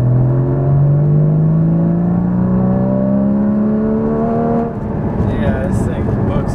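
A Porsche Cayman GT4 with a manual gearbox revs its engine up in one long, rising pull that then drops off, loud and close, with a voice talking over it.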